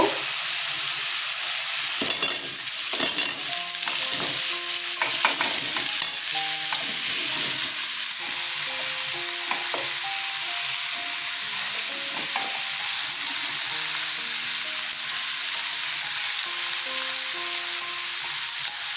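Mixed vegetables frying and sizzling in a pan for a Bengali mixed-vegetable curry, with a steady loud hiss and repeated clinks and scrapes of stirring throughout, no talk.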